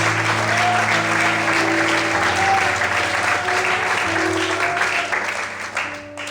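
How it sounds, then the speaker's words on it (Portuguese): Sustained applause from a church congregation praising God during a service, thick continuous clapping over a held keyboard-like drone, thinning slightly toward the end. "Você pode aplaudir a Deus?"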